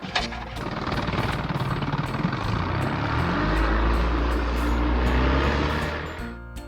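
A motorboat engine roars steadily and close, a dense broadband rumble with a choppy throb that swells in the middle and cuts off near the end.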